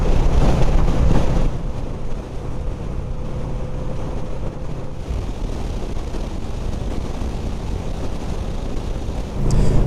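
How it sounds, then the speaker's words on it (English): Strong seaside wind at Bristol buffets the microphone with a loud, continuous rumbling roar that holds for about ten seconds, with no talk. "it's so bloody windy."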